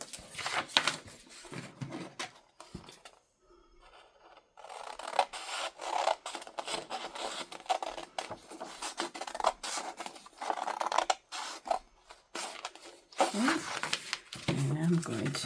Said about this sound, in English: I'm going to fold that over and make a crease